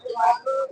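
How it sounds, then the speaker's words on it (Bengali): A male pigeon at a pigeon market gives a short, close, two-part coo. "এই যে দেখেন কি সুন্দর একটা নর কবুতর।"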